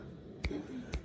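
Two sharp finger snaps about half a second apart, close but fairly quiet over a low background.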